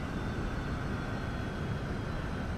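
An airliner in the flight simulator X-Plane 11 descends with a steady, even engine drone and rushing air noise, holding one unbroken level throughout.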